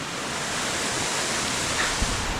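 Lanka Ella waterfall near Babarakanda falls in Sri Lanka, a continuous broad rushing roar of falling water, steady and fairly close, with no speech.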